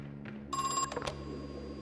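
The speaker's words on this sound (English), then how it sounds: "Phone." Telephone ringing in the video game Crow Country, a short electronic ring lasting about half a second that stands out clearly over low ambient game music and noise.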